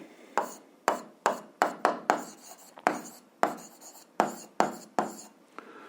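Pen or marker strokes on paper or board while an equation is written by hand for a 7th-grade algebra exercise, a dozen short scratchy bursts in an irregular rhythm, close and clear with no talk.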